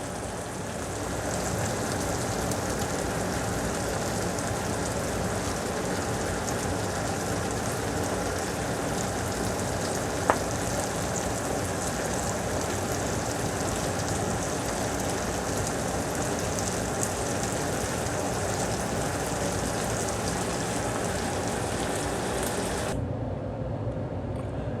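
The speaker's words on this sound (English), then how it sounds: "the onions are cooking down tremendously" Onions cook down in a pan beside a pressure cooker while beef and potatoes are prepared, giving a steady, dense sizzle and crackle throughout that cuts off abruptly near the end.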